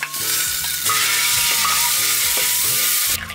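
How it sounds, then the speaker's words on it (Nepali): Egg frying in a pan in a village kitchen, a steady loud sizzle with repeated scraping stir strokes throughout, no voices. "अन्डा पनि फ्राई भइसक्यो"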